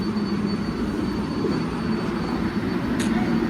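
A New York subway train on the 7 line, an 11-car set, gives a steady loud rumble with a faint high whine and a brief screech near the end.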